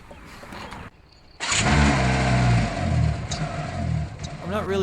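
A Hyundai car engine runs steadily at a warm low idle, close by, after a brief quiet gap, with a voice speaking over it.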